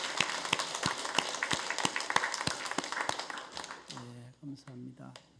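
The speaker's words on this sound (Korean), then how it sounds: "성가대 오늘 은혜 받아 성가대의 박수" Members of a church congregation applaud the choir with a dense patter of many hands, which fades out near the end as a voice begins speaking.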